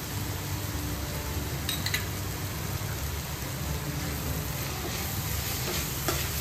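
Ground coriander, garam masala, turmeric and red chili powder are stirred into a Goan mackerel cutlet mixture cooking over a medium gas flame, giving a steady close sizzle with soft scraping of a spoon throughout.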